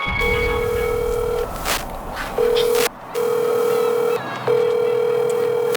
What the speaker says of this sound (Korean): 전화 먼저 한번 해볼게